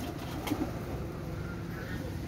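Chinese teddy running-pair pigeons coo softly in a low, rounded burble, close but quiet, while someone talks over them.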